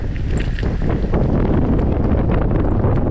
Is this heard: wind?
yes